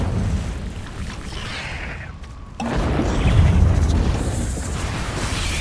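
Fiery Incendio spell blasts in Hogwarts Legacy, a loud burst of whooshing flame and crackle with a brief dip before a heavier rumbling surge that carries on to the end.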